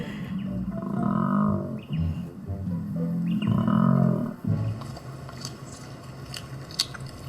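Male koala bellowing a mating call to females in the wild: two long, loud, deep grunting roars with snorting inhalations between them, followed by quieter ambient bush noise and faint bird chirps.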